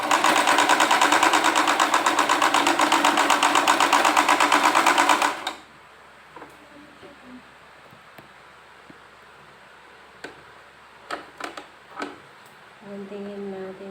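A sewing machine stitching a necktie runs loudly and steadily for about five seconds, then stops, leaving quiet handling noises and a few faint clicks.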